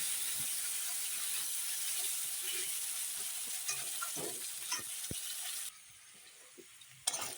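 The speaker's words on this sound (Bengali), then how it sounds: "এখন আলুগুলো আমি দিয়ে দিই আলুগুলো ভেজে নিলাম" Potato pieces frying in hot oil seasoned with black cumin, a steady loud hiss and sizzle that carries on unbroken, then drops sharply near the end, followed by a brief clatter.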